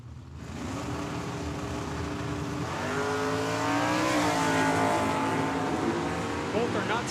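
A 1972 Ford Maverick and a Chevelle launch at a drag strip, engines rising together into a loud sustained roar with shifting revs, while an announcer's voice comes faintly over the track.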